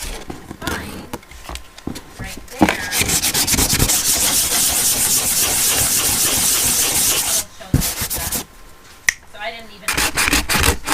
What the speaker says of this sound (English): So as you sand it down in preparation for painting it, it just peels up again